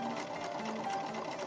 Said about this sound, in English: and then tacking and sewing it in place.